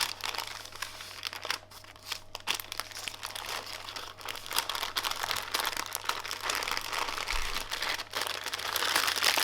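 Aluminium foil crinkling and crumpling steadily as it is folded up into a parcel around salmon and broccolini, a close, continuous rustle with no talking.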